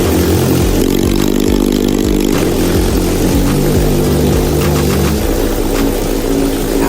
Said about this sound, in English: Now I'm going to try starting it again.